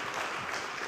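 A church congregation claps during a sermon, a dense wash of many hands applauding continuously at moderate loudness.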